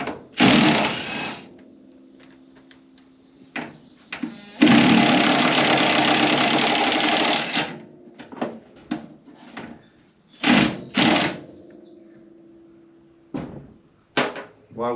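Tools at work removing the top shock absorber bolts on a 1968 Mustang, with loud bursts of whirring and rattling separated by quieter clanks and knocks, close by and with no talking.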